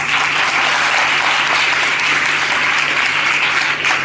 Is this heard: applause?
yes